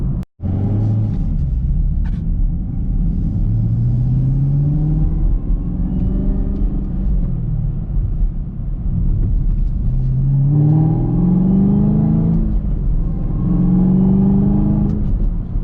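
A 2020 Chevrolet Camaro ZL1 V8, still in break-in, revs in several rising pulls while driving, each sweep climbing in pitch and then easing off, heard from inside the car.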